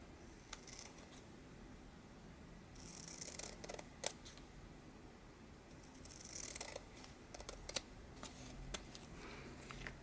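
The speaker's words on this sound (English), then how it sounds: "I can't cut with scissors very well, straight lines" Scissors snip through book pages in a quiet room, giving a string of short crisp cuts and rustles at close range, with some soft paper handling between the snips.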